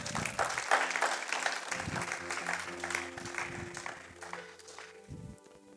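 A church congregation claps and cheers together for the Lord, a steady mid-distance wash of applause with voices rising through it, fading gradually toward the end.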